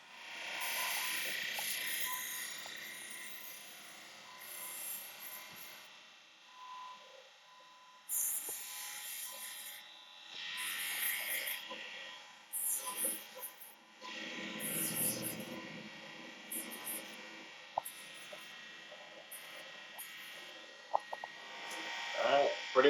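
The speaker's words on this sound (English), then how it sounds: "So now I'm going to move on to the 220 grit expanding wheel." A lapidary 220 grit expanding wheel grinds a cabochon stone, making a faint, steady buzzing hum with a hiss that swells and fades as the stone is pressed and lifted, repeated over and over.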